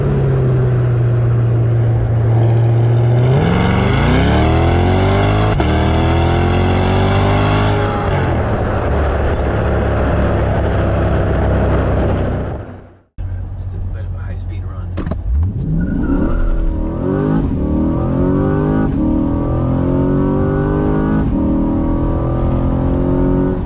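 Corvette C8 accelerating hard, its loud engine climbing through the revs, a brief cut at a gear change, then the engine surging and climbing again; a voice talks over part of the run.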